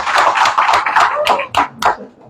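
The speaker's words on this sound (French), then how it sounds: "on dirait les applaudissements." Hand clapping from an audience at a certificate award ceremony, a handful of sharp irregular claps thinning out toward the end, with some voice mixed in.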